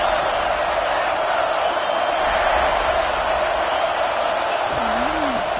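Steady stadium crowd roar in a college football video game, South Carolina versus Georgia, a dense continuous wash of noise throughout with no clear cheers or claps standing out.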